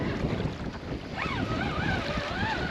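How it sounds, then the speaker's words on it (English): Wind gusts steadily over open water around a small fishing boat on Southampton Water, a constant breezy rush with lapping waves, while faint whistling tones drift through. "I'd say that possibly that wind's eased a little bit."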